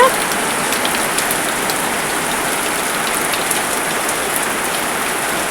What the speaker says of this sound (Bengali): পুরো দমে বৃষ্টি হচ্ছে